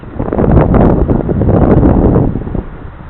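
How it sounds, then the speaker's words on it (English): Strong wind buffets the microphone at an RC plane flying field in roughly 10 mph winds, a loud, continuous rumbling gust that swells and holds for about three seconds with no speech. "See if we can manage to fight through the wind."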